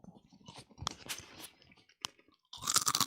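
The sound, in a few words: person chewing a crunchy snack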